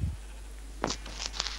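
Minecraft sheep bleating in a few short, bright calls, moderately close, over a quiet game background.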